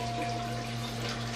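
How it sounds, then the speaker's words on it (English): Rushing water from a toilet flushing, a steady, dense whoosh at close range with a faint constant hum underneath and no talk. "make sure that you flush the toilet and get all the water out of the bowl"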